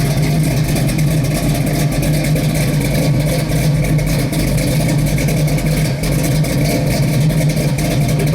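The engine of a 1971 Chevrolet Heavy Chevy with an LS5 cam runs at a steady, loud, lumpy idle, its deep rumble close and continuous throughout with no talk.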